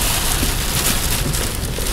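Heavy Texas rainstorm pounding on a car, a dense, steady roar of drops drumming on the roof and glass, loud and continuous with no voices.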